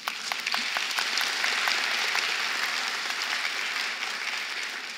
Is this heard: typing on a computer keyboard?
no